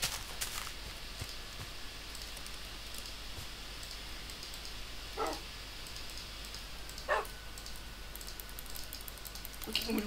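A dog in a Minecraft game gives a few short, sharp barks spaced several seconds apart over a steady hiss of background noise, with no talk.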